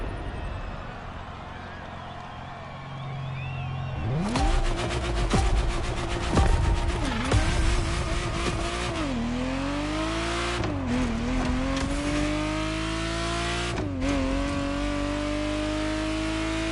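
Ferrari Testarossa engine starting up and revving loudly and close, with repeated rising and falling rev sweeps and a sustained idle between bursts, quiet ambience before the start.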